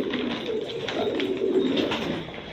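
Sheikh Shalli pigeon cooing while held in the hand, a soft, low, rolling coo repeated several times, close and steady with no talking.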